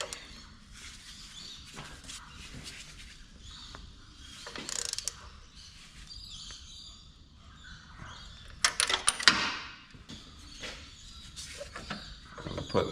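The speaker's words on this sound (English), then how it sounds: "Tighten them up." A ratchet wrench clicks in short bursts while bolts are tightened on the power steering pump of a Toyota Landcruiser HZJ75, with faint mechanical rattles and a louder clatter near the end.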